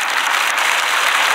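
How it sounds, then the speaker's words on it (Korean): A church congregation at a Sunday service claps steadily in encouragement, a dense, even wash of hands throughout the short stretch. "격려의 박수."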